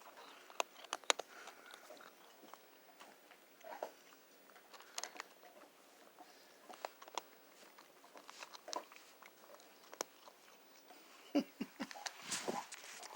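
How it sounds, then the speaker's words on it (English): A dog chews and gnaws on a bone close by, with irregular crunching, biting and clicking sounds spread throughout and quiet surroundings, with no talking. "There's the other one chewing on his bone."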